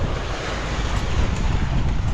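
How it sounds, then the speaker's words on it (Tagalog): Loud wind buffets the microphone in a constant rumbling roar aboard a boat on a sea trial, with no voices. "hangin dumating na"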